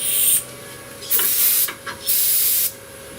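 An aerosol cleaner spray can, used while working on a 2005 Ford Escape engine, hisses in three short close bursts, each lasting about half a second, with brief pauses between them and no talking.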